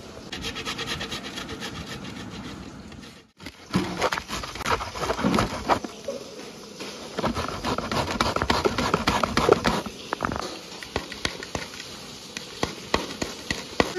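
Peeled bamboo shoot rubbed and grated by hand, a close, continuous scratchy rasping in uneven strokes, pausing briefly early on before resuming steadily.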